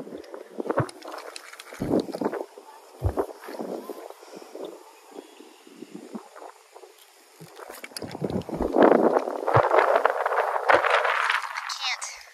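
Gusty wind buffeting the microphone in rumbling waves while fishing outdoors, strongest toward the end, with voices talking faintly over it.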